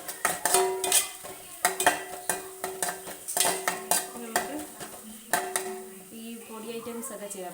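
A spoon clinks and scrapes rhythmically against a pan as a few fenugreek seeds are stirred in with frying spices, producing repeated sharp metallic taps over a faint sizzle.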